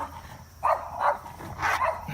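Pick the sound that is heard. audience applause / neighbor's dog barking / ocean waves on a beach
neighbor's dog barking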